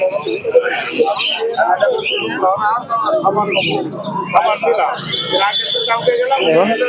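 Pigeons and other caged birds at the Santipur bird market, with dense chirping and calls running throughout under constant crowd chatter and nearby talking.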